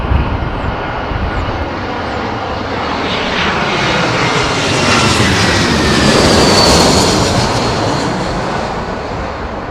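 A jet airliner comes in to land at Heathrow in a strong crosswind during a storm, its loud, broad engine roar swelling steadily as it passes close overhead with no talk.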